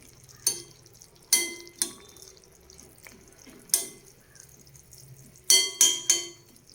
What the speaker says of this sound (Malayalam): ഉപ്പിട്ടതൊന്ന് ഇളക്കി കൊടുക്കാം.